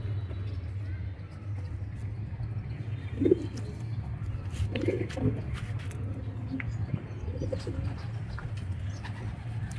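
Racing pigeons coo softly in a loft, a few low throaty calls rising over a steady rumble of distant traffic, with faint voices in the background.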